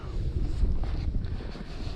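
Steady wind buffets the microphone outdoors on a rod-and-line fishing trip, a continuous low rumbling roar with gusty swells and no talking.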